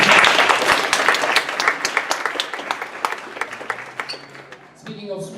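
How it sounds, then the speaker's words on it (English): An audience at a creative event breaks into loud applause that gradually thins into scattered claps, then fades as a voice begins speaking near the end. "Please give a round of applause to them."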